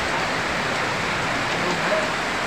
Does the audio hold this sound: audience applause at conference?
no